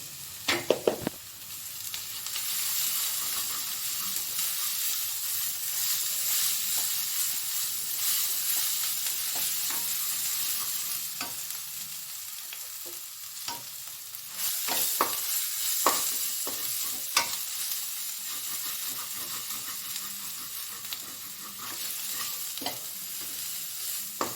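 Chicken fries in a pan with a little turmeric, giving a steady, close sizzle and hiss throughout, broken now and then by scraping stir strokes, with no talk.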